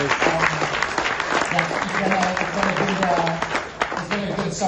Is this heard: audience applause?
yes